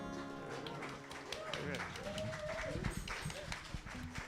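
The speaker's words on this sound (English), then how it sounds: "Keep that round of applause going for our Reverend Dr." A church congregation at a Sunday service keeps up a round of applause for a reverend, with dense clapping running under voices and talk.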